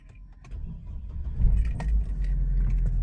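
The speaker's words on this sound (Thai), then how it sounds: "เสียบแล้ว สตาร์ท ก่อนนะฮะ" Keys jangle as a key goes into the ignition of a 2009 Hummer H3 SUV, followed by a low engine rumble building close by inside the cab, with no talk.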